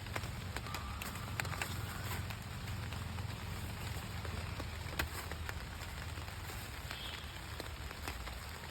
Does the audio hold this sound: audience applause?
no